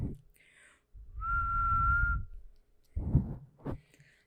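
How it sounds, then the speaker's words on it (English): A person who has recently learned to whistle holds a single clear, steady whistled note for about a second, close and moderately loud, framed by brief talking before and after. "I recently learned to whistle."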